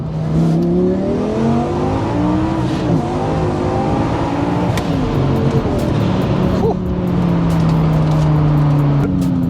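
A 2009 Lamborghini Gallardo LP560-4 with twin turbos accelerates hard, the engine note sweeping up loud and close through rising revs, with a brief shift dip before climbing again.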